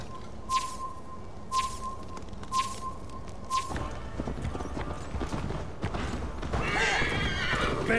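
Horses in Assassin's Creed Valhalla whinny several times, short high neighs at the start, then a rush of hoofbeats and galloping builds up, loud and close, with faint game voices underneath.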